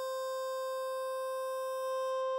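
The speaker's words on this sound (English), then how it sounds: "second one is a square waveform an octave above" A synth square waveform pitched an octave up, lightly rounded by a filter, for Mega Man-style game music, holds a single steady bright tone with stacked harmonics for about two and a half seconds, alone and unbroken.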